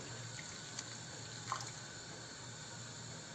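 Hot water poured from a glass into tomato paste for an Algerian red couscous sauce with artichokes, a quiet steady trickle and splash with faint clinks, heard alone without talk.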